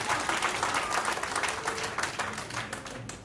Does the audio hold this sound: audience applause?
yes